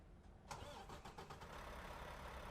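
The Mack MP8 445-horsepower engine of a truck in American Truck Simulator cranks and fires with a sharp burst, then settles into a steady, rumbling idle over low background noise.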